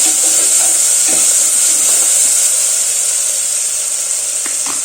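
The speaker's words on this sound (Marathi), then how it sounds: "थोडासा कच्चा स्मेल जो असतो अद्रक लसूणचा तो जाईपर्यंत थोडस ते परतून घ्यायचं असतं" Ginger-garlic paste sautéing in a pan while chicken is prepared, a loud steady hiss dominating throughout with faint scattered stirring scrapes beneath, close up and without voices.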